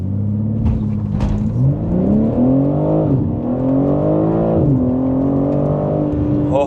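A 2025 BMW M3 xDrive Competition accelerating hard, its engine note climbing steadily through the gears with brief dips at each shift, loud and close from inside the cabin, with no talking.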